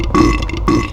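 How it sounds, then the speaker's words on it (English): Loud, close, guttural burping from the enemies in the Silent Hill 4 video game, heard as two drawn-out belches in quick succession with no talk over them. "It's the burping fest."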